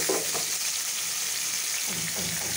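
Minced chicken fries in a pan with a steady, even sizzle that runs throughout, joined by light stirring sounds now and then.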